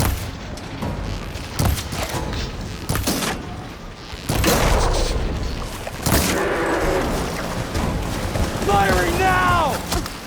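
Weapons firing in Horizon Forbidden West, a series of sharp, booming blasts spaced irregularly across the stretch, loud and close, with rumbling aftermath, mechanical whirs and snatches of voices between shots.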